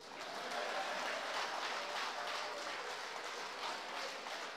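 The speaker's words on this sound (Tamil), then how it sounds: "கைதட்டுங்கடே." An audience applauds steadily, a dense, even wash of many hands clapping at once, sustained without a break.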